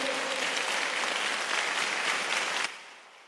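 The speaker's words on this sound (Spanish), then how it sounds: "dale un aplauso al Señor" Congregation applauding at a Sunday afternoon church service in Guatemala, a dense, steady wash of clapping that holds for over two seconds and then cuts off abruptly, leaving a faint fading tail.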